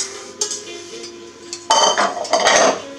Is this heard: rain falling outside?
no